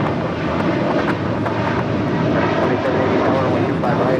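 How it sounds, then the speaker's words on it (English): An airplane takes off from runway 25 right at LAX, its engines a loud, steady broadband roar that holds at full strength throughout with no pause or talk. "runway 25 right, clear for takeoff"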